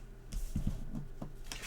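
Decks of cards for the Crypt of Chaos board game are shuffled by hand, giving a quick run of soft papery riffles and rustles up close.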